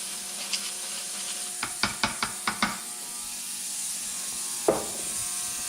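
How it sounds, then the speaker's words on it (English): Spray brake cleaner hits a gun-cleaning brush from a kit used on a Smith & Wesson Model 19 revolver, with a rapid series of short sharp scrubbing clicks and a single later spurt, over faint background hiss. "Clean this brush off with a little bit of brake cleaner."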